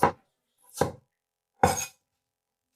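A knife roughly chopping a small onion on a cutting board, four separate sharp knocks spaced at irregular intervals, close and clear with silence between them.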